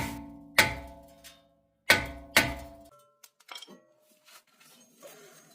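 A brake rotor comes off a 2005-or-later Chrysler 300 with a few sharp metallic clanks and ringing knocks, followed by lighter scrapes and taps as the part is handled nearby.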